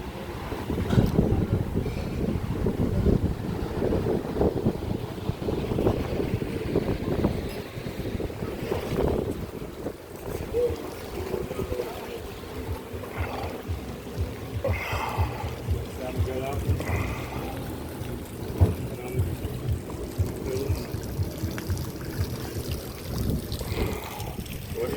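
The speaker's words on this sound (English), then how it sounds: "heavy wind." Heavy wind on a cloudy day in the Philippines, near the water, buffeting the microphone as a steady loud roar with gusty swells, and someone talking over it.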